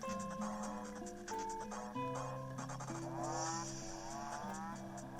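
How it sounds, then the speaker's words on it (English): Cow gyroids in the Animal Crossing: New Horizons video game play together, giving layered tonal moo-like calls with sustained, stepping pitches over a rhythmic musical backdrop, moderately loud with no voices. "Here's another example of some cow gyroids."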